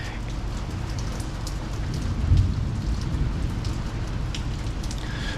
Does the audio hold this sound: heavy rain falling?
yes